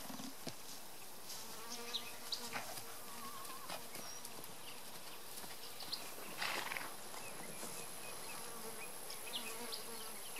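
Honeybees buzz around beekeepers outdoors, faint individual insects droning past at varying distances, with occasional soft knocks and rustles.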